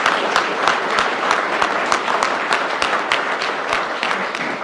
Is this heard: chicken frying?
no